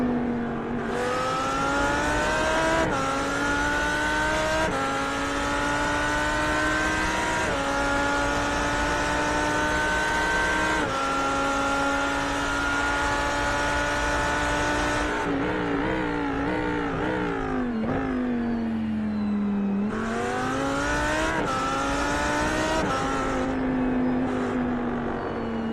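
Race cars roaring around a track, a continuous loud engine drone with rising and falling pitch as cars accelerate, shift gears and sweep past one after another, no voices.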